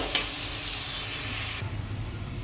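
Onions for fish curry fry in a pan with a steady bright hiss and one small knock near the start. The sizzle drops away abruptly toward the end, leaving a low rumble.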